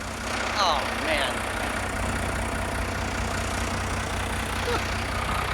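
A 1993 Dodge W350 first-gen Cummins diesel dually truck idling with a steady, deep, even rumble, close and continuous, with faint incidental noises over it.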